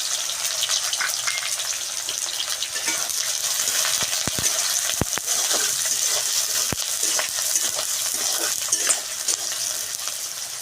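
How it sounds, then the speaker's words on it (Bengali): Chopped onion sizzling in hot white cooking oil in a pan, a steady close frying hiss with a few sharp utensil clinks and stirring scrapes, no voices. "তেলটা আমার গরম হয়ে গিয়েছে, এখন আমি দিয়ে দেব পেঁয়াজ কুচি। এগুলো আমার ব্রেস্তার জন্য আমি ভেজে নেব।"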